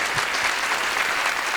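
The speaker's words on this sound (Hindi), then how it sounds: "आप लोगों के समक्ष एक तालियां कर मुझे आदेशित करें" Audience applause at a Hindi poetry recitation (kavi sammelan), a dense steady wash of many hands clapping at once, even and sustained throughout with no individual claps standing out.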